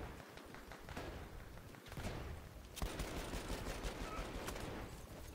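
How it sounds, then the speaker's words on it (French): Submachine gun fire in Battlefield 1, the Fort de Vaux map: rapid bursts of shots crackle over a dense battle din, with a sharp report near the middle and continuous firing after it. "Pour moi, la meilleure arme du DLC, c'est la première. C'est le pistolet mitrailleur là."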